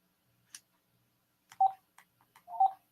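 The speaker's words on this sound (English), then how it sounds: "And there goes the phone." A telephone rings indoors in two short, bright tonal bursts about a second apart, each clear and fairly close, with a faint click before them and no talking.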